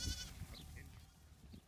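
Goats bleat faintly inside a goat barn at a farm, a few soft, distant calls amid low barn rumble and background murmur.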